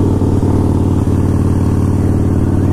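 Harley-Davidson Blackline motorcycle engine running close by, a loud steady rumbling throb with a slight rise in revs over a few seconds.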